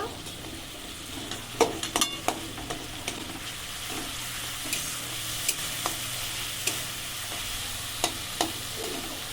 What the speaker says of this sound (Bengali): স্বাদ হওয়ার জন্য চিনি মশলা খুব ভালো করে কষিয়ে নেব